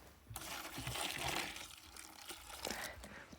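Broth pours steadily into a bowl or dish for about three seconds, a close liquid splashing and trickling that swells and then tapers, with soft voices faintly underneath.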